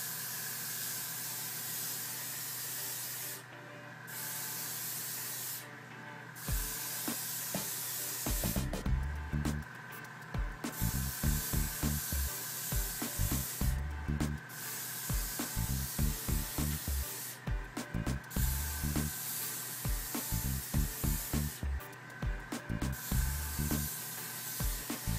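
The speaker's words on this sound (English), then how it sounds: "Compressor's struggling to keep up, I think." Air compressor and airbrush spraying Auto Air paint onto a Lamborghini, a steady hiss broken by bursts of spraying and rattling compressor chugs in irregular stretches.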